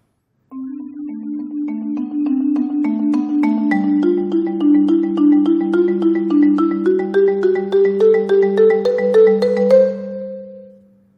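Two-mallet keyboard percussion plays a clear, rhythmic melody of struck notes over softer sustained drone notes beneath, steady and close throughout, ending with a ringing decay.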